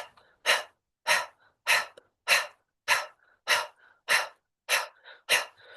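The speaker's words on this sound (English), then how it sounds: "you can feel as though the exhale is a little bit more forceful" Nine sharp, forceful exhales from Kundalini yoga breathing, pumped from the navel in an even rhythm about every half second, each a close, breathy puff separated by near silence.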